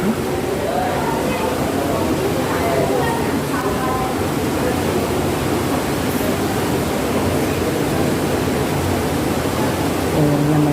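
A waterfall near Kondeshwar temple in Badlapur gives a loud, steady broadband roar, with people talking over the rushing water.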